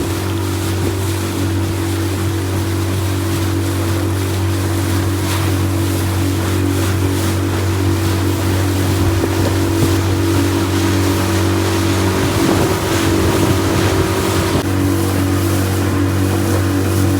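Motorboats run on the water in the Coorong National Park in winter, a steady loud engine drone with layered tonal hum, plus wind and lapping waves under it, and no talk.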